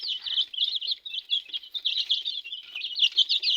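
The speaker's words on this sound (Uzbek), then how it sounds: "boqilayotgan jo'jalarimiz" Andijan black breed chicks of an egg-laying line cheep without pause, many high peeps overlapping in a dense, busy chorus close to the microphone.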